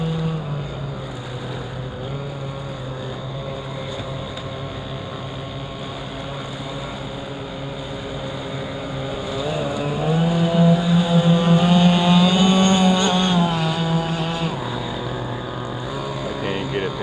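A cigarette speedboat on wavy Lake Michigan runs with a loud, droning engine roar and strong harmonic whine, rising to a higher, louder pitch midway as it speeds up, then easing back, with talk mixed in.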